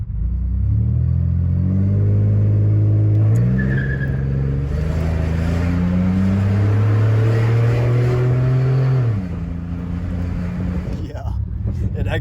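An off-road project car with a welded roll cage accelerates hard along a short straightaway, its engine rising in pitch through gear changes with a loud, close roar, while a voice talks over it.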